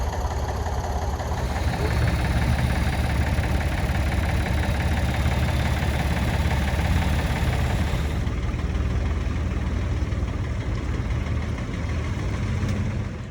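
A Ford tractor engine idles steadily with a low, constant rumble and rhythmic knock, unchanging throughout; no voices.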